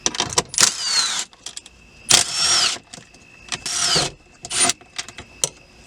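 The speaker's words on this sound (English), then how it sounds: "Undo the 4 10mm nuts that hold the shifter mounting plate in." Ratchet work on the 10mm nuts holding the shifter mounting plate of an Audi B8 comes in several short, close bursts of clicking separated by brief pauses, with no talking.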